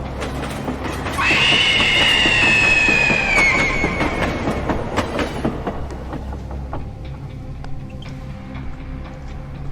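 A running train rumbles and clatters steadily, with a loud, sustained metallic wheel squeal early on that fades into rhythmic rolling clatter.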